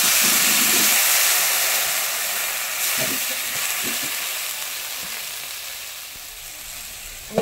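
Water poured into a hot pan of hog plums sets off a loud burst of sizzling and steaming hiss that gradually fades, with a few clinks along the way and no voices.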